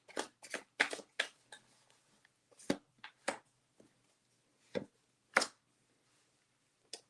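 Tarot cards are shuffled by hand. Soft, close riffles and flicks come in irregular bursts, busier at first and then sparser, with quiet moments between.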